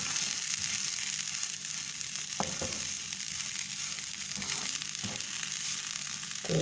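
Fresh coriander is stirred into a very spicy fish curry (fish salan) as a steady soft sizzle continues, broken by a few faint spoon scrapes; no voices.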